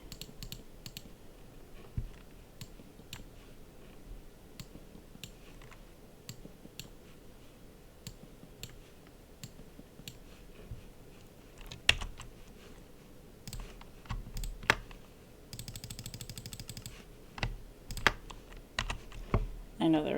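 Rapid mouse clicks while building in Minecraft, sharp dry ticks in uneven bursts, close and fairly quiet, growing busier toward the end.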